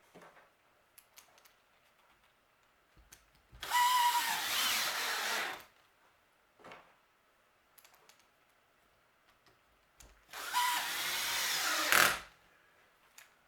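A power drill drives 2-inch screws into a wooden bat house kit in two sustained, loud whirring runs of about two seconds each, separated by quiet handling taps and clicks.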